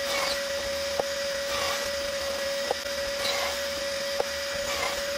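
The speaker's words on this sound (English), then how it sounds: "Vacuum works great with the pocket jig" Shop vac drawing sawdust through a Kreg pocket-hole jig while wood is drilled, a steady whining hiss with a sustained tone, punctuated by three evenly spaced sharp clicks from the drilling.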